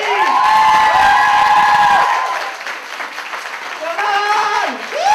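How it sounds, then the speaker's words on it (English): A crowd at a raffle and auction in Paris bursts into loud applause and cheering for a woman, with whoops, shouts and voices calling over the clapping. "I really want a thunder of applause for this person"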